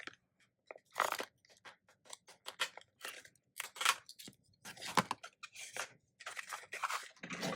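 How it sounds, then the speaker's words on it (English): Old Fiskars decorative edge scissors snip through paper in a quick series of crisp, close cuts with short pauses between strokes, loud and dry with no talking. "grab my little decorative edge Fiskars scissors that I've had for eons and go ahead and make this all chippy"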